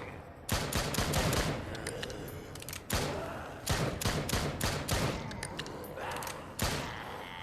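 Pistol shots fired at zombies in a wave-based shooter game, sharp cracks in short rapid clusters separated by brief pauses, with thuds and ambient game noise beneath.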